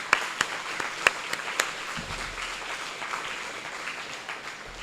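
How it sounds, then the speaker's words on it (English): A county fair crowd gives a short round of applause, a moderate wash of clapping with a few sharper, closer claps standing out before it thins away. "One more round of applause for that."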